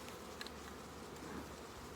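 Honeybees buzzing around a booming hive: a dense, even hum of many bees close by, soft but continuous, with no talking.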